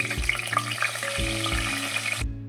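Chopped onion with a pinch of salt frying in oil in a pan for soybean pulao, a close, busy sizzle with periodic low clunks of the utensil, ending abruptly.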